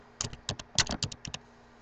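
Quick bursts of typing on a computer keyboard, a rapid cluster of close, crisp key clicks with uneven rhythm over under two seconds.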